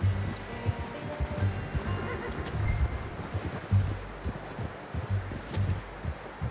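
Horse hooves clip-clop steadily in Red Dead Redemption 2, a moderately loud rhythmic plodding with faint rustling and occasional snorts or whinnies, no talk over it.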